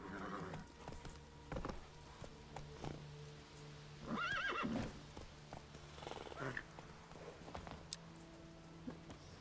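Roach, Geralt's horse in The Witcher 3, lets out a clear whinny midway amid soft clip-clop hoofbeats at a trot, with a few quieter snorts and game sounds around it.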